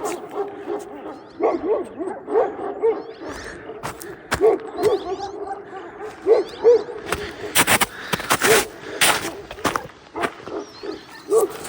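Several dogs bark in short bursts and whine in between, some yelps sharp and close, others farther off.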